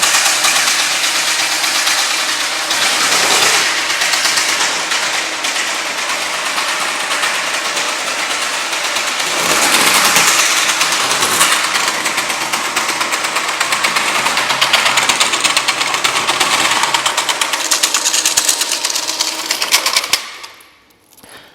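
Picote Midi Cleaner drain cleaning machine running steadily at high speed, a loud continuous mechanical whir and rattle with surges around the middle, then cutting off abruptly near the end.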